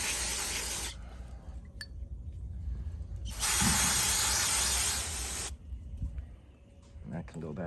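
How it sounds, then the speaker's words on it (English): Two bursts of aerosol spray cleaner hit engine valve stems, each a loud, steady hiss lasting about two to three seconds with a quiet pause between, faint clinks of metal parts around them. "spray that down real good. Spray down the valve stems."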